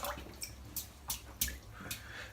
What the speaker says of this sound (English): So let's dip it in the water